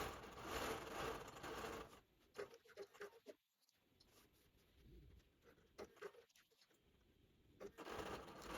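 Longarm quilting machine stitching flower motifs into the border squares of an Amish-style quilt, a steady mechanical whir that pauses and restarts, with no talking.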